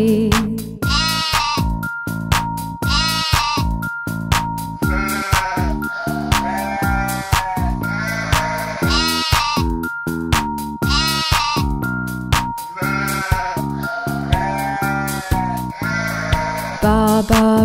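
Sheep bleat over and over in a steady, loud, repetitive pattern, the calls layered and continuous with no talking.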